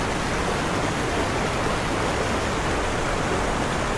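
Steady broadband rush of a stream flowing beside a riverside fishing spot, constant and fairly loud with no breaks, filling the whole stretch without voices.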